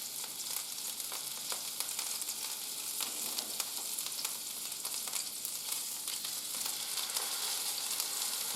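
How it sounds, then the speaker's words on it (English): Beef browns in a hot pan for a slow-cooker roast, giving a steady crackling sizzle with faint spits and occasional soft contacts as tongs turn the meat. The sound is close but fairly quiet, with no talking. "I'm going to get these rather good tongs, just browning off the meat"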